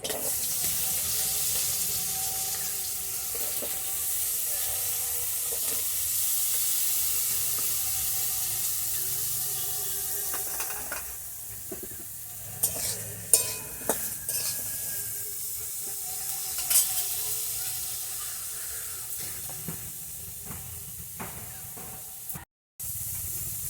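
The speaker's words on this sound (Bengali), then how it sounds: "এবার আমি বেগুনটা দিয়ে ভেজে নিচ্ছি।" Eggplant sizzles in hot oil in a pan, giving a steady spraying hiss that eases later and is broken by a few brief clatters and stirring sounds.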